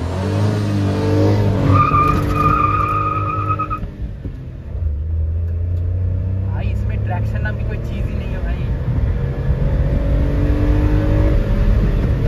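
A car accelerating hard through a 0 to 100 run roars loudly and close, its engine note climbing through gears with a brief dip between, as someone talks over it.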